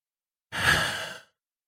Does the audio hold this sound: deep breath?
yes